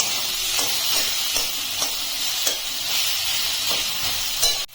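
Boiled potato stirred and mixed with spices in a pan, with a steady hiss underneath and regular scraping strokes of the spoon, close and fairly loud, with no talking.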